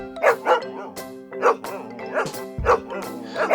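A dog barks repeatedly in short, loud bursts with yips and whines in between, close by and clear with no talking over it.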